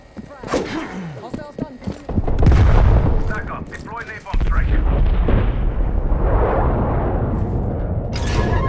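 A Semtex grenade detonating in Call of Duty: Black Ops Cold War, with loud, deep booms and a long rumbling roar. Shorter gunfire-like cracks come before the blast.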